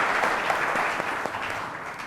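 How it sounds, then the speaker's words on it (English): An audience applauds to welcome women guests at a televised panel discussion, a steady wash of clapping with no one speaking over it. "Can we please have a round of applause to welcome these women today?"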